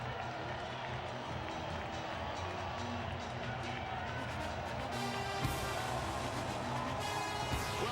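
An excited baseball crowd fills AT&T Park in San Francisco during the 2016 NLDS Game 4, Cubs at Giants, with a dense, steady roar of chatter and cheering that swells slightly partway through.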